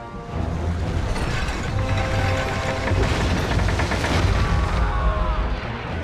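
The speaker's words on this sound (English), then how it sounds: "The chains are rising!" Massive harbour chains grind and clank upward amid a Roman naval assault in Ryse: Son of Rome, a loud, dense mechanical rumble with metallic rattling and booms layered throughout, no talk over it.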